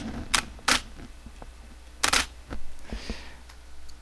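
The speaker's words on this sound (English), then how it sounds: "And now I'm going to take my picture." A Nikon D300 DSLR fires its shutter in a few sharp, close mechanical clicks, a couple of them in quick pairs, in a quiet room with faint handling noises between them.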